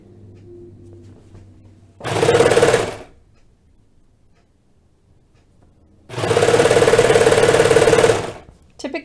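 Sewing machine stitching a sleeve seam on a Southbank sweater, running in two loud whirring bursts, a short one and then a longer one of about two seconds, with quiet handling between them.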